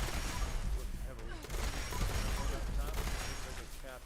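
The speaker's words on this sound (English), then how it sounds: "I'm using the overpowered cannon." Rapid explosive cannon fire from a quad explosive weapon in Fallout 76, a dense barrage of overlapping blasts and crashes sustained throughout at steady loudness, with players talking over it.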